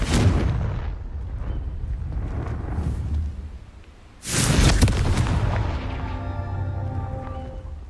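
Confringo fire spell blasts in the Hogwarts Legacy video game: a loud booming burst at the start, a lull, then a second sharp explosive blast with a rumbling tail and lingering ringing tones.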